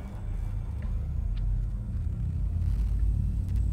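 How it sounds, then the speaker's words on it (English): In the Elite Dangerous video game, the frame shift drive engages as a deep, steady rumble that swells slightly, with faint clicks above it. "Engage frame shift drive."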